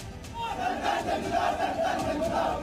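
A large crowd in Kanpur chants slogans in loud, rhythmic unison, the massed voices rising and falling in repeated waves.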